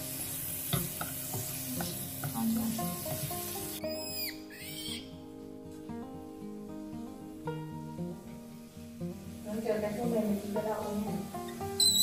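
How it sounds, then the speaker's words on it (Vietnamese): Tomatoes being stir-fried in a pan in a home kitchen: steady sizzling with scraping, clacking stirs of a utensil against the pan, and someone talking over the cooking. "Nào bây giờ đảo cho cà chua mềm."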